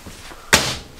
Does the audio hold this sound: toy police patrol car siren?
no